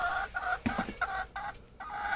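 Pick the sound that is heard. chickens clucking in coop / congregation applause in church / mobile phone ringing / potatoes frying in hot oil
chickens clucking in coop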